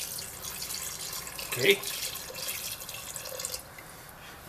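Water poured into a pot to cover beef ribs, a continuous splashing trickle that rises into a brief louder gush before tapering off, with a voice briefly speaking.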